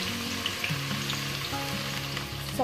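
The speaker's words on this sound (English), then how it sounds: "Saute onion till it's golden brown and let the flame be in medium." Sliced onion and whole spices such as cloves sauté in oil in a pan over a medium flame, giving a steady close-up sizzle and crackle with low tonal hum beneath and no talking.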